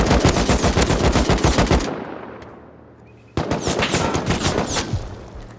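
Rapid automatic gunfire from the online survival game Rust, loud and close: a long burst of shots, a short pause with fading echo, then another sustained burst.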